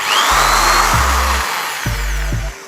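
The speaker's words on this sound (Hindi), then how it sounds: "मैं भी फर्स्ट टाइम ड्रिल को ऑन करके चेक करने वाला हूँ" A new 220-volt electric drill machine is switched on twice for its first test run, each time whirring up to a loud, steady motor hum for about a second before cutting off, with no talk.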